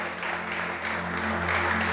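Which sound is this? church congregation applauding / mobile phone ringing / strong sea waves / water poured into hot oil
church congregation applauding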